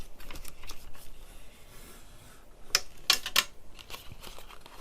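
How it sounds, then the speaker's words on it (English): A bone folder creases folded paper for a lapbook, making soft scraping rubs followed by a few sharper, louder swipes near the end, close by and with no talking. "Crease it with our bone folder."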